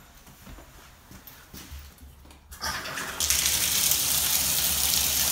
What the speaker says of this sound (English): Water runs fine.